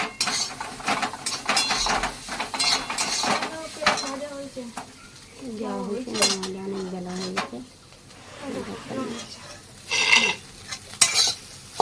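A large fish frying in hot oil in a pan, stirred and turned with a metal utensil: scraping and clinking over a soft sizzle, close up, with a voice speaking at times.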